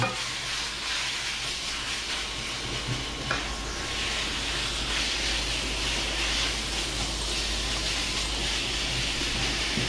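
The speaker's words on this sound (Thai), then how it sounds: "แล้วผัดคลุกเคล้าให้เข้ากัน" Steady sizzling and hissing from a hot wok as duck breast is stir-fried, with occasional scraping of a utensil as food is stirred and tossed, continuous throughout.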